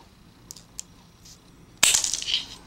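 Telecom scissors snipping through a communications cable: one sharp crunching cut rings out alone after a few faint ticks, close and distinct.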